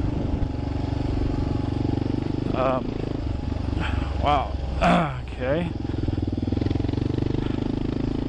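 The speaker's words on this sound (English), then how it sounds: "I'm not used to riding my KLR on this kind of stuff." Kawasaki KLR motorcycle engine droning steadily on a rough off-road trail on Rowe Mesa, heard close throughout, with a rider talking briefly over it partway through.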